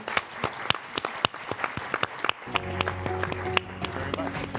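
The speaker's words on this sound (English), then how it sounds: "Give yourselves a big round of applause." Audience applause at a climate summit, a steady patter of many hands clapping with sharp individual claps standing out, continuing at moderate loudness with a low hum entering partway through.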